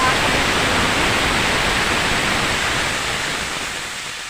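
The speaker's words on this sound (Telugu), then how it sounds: "ఇలా వాటర్ పోసుకొని" Water is poured into a cooking pot for boiling sago for semiya payasam, a loud, steady rushing stream that runs without pause and tapers off slightly toward the end.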